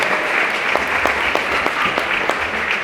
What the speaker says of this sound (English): How about a round of applause for the married people here in this